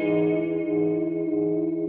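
Sustained electric guitar notes ring out through a modulation pedal, a shimmering chorus-like wobble on a dense chord that holds steady and alone for about two seconds.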